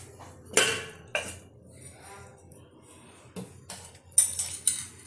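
A metal lid clatters onto a cooking pot of leaf-wrapped prawn paturi steaming in water, with several sharp clanks and clinks spaced over a few seconds against a quiet background.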